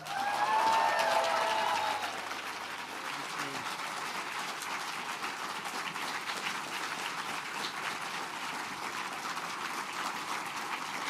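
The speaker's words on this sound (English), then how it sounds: "please give an enormous round of applause to the 2025 Dublin Literary Award winner, Michael Crummy" Audience applause at the 2025 Dublin Literary Award ceremony for winner Michael Crummy, starting with a brief burst that settles into a steady, moderately loud wash of clapping throughout.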